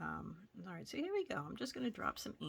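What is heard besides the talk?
No everyday noise stands out behind the speech.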